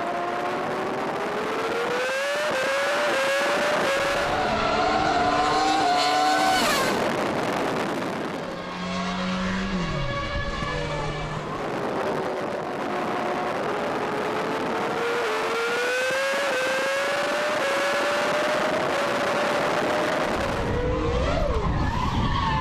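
A race car with a high-revving engine rated to 18,000 RPM runs hard around a track day circuit at Modena, its engine note climbing and falling through gear changes while tires skid and squeal, loud and continuous.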